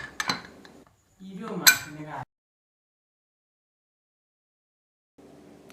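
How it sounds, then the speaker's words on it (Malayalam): Bukhari rice is being served from a cooker: its lid comes off with a few sharp metallic clinks and pot-and-utensil clatter up close, then a longer scraping rattle, followed by near silence. "ഇനി നമുക്ക് കുക്കർ തുറന്ന് നോക്കാം"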